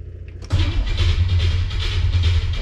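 A car engine fitted with a Pertronix electronic ignition and FiTech fuel injection cranks and catches after a short pause, then runs loud and close with a pulsing, uneven low rumble.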